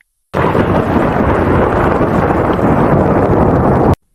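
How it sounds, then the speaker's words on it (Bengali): A loud, continuous roar of rain with rumbling thunder begins abruptly, holds steady for several seconds, then cuts off suddenly. "চারপাশে শুধু বৃষ্টির শব্দ আর বজ্রপাতের গর্জন।"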